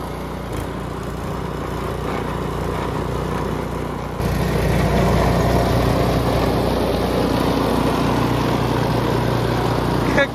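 A snow removal tractor engine runs steadily through the whole stretch, a constant low mechanical drone that grows louder partway through as the machine works, close by, with no talking.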